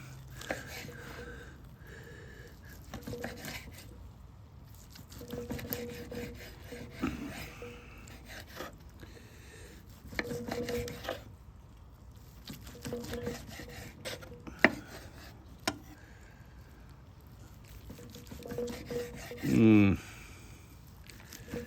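Knife slicing a grilled tomahawk steak cooked on a Weber Santa Maria grill, soft repeated cutting and rasping strokes against a board at an irregular pace, with a low voice murmuring at times.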